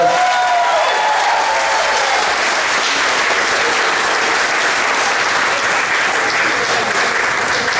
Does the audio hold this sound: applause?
yes